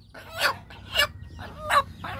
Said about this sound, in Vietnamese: Đây là con gà mái ác nha các bạn.